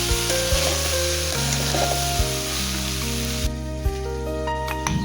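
Washed rice and lentils tipped into a hot pot of oil for khichuri, a close, steady sizzle with soft stirring and scraping, plus a few sharp knocks against the pot, with no voices.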